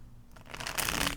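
Tarot cards being shuffled in a riffling burst that builds from a soft start to a dense, close, crisp flutter, alone with no talking.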